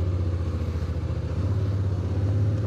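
A motorcycle engine running with a steady low throbbing idle that swells slightly as the bike pulls away on a touring ride in Thailand, close and loud with no talk.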